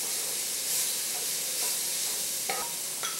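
Celery hitting a hot pan for a vegan Thai curry, a steady loud sizzle and hiss with a few small clinks of stirring, and no talking.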